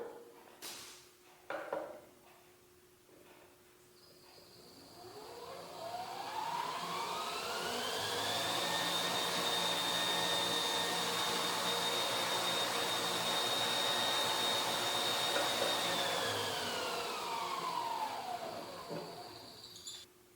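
A bench grinder winds up from rest to about 1000 RPM, its rising whine settling into a steady, close motor hum and tone for several seconds before it winds back down, after a couple of clunks at the start.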